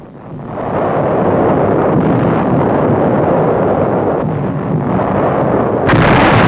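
Naval bombardment of heavy guns supporting the U.S. 10th Army landings in the Kerama Islands off Okinawa, March 1945. A loud, dense, unbroken roar of booming fire and rumble fills the whole stretch, with a harsher burst near the end and no voices.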